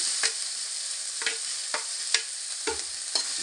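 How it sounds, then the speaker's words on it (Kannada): Horse gram roasting in a little oil in a pan, a steady bright sizzle with several sharp scrapes of a spatula at irregular intervals, close up. "ಹುರುಳಿ ಹೊರ್ಕೊತೀವಿ ಸ್ವಲ್ಪ ಎಣ್ಣೆ ಹಾಕಿ ಹುರ್ಕೋಬೇಕು"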